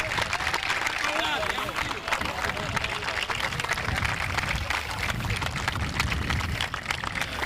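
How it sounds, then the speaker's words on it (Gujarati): Outdoors at night, a crowd at a village cricket league final's prize ceremony claps in dense, steady applause that runs unbroken for several seconds with a faint babble underneath. "જોરદાર તાળીઓથી સ્વાગત કરીશું"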